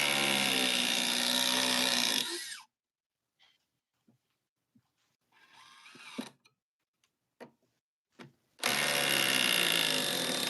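A DeWalt or Milwaukee hydraulic impact driver, run on a regular high-output battery, whines loudly in two sustained bursts at the start and end of the clip, with scattered clicks and handling noises in the quiet gap between them.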